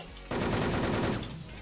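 Rapid automatic gunfire in a video game bursts in suddenly after a brief quiet moment and rattles on as a dense, continuous stream of shots before tailing off.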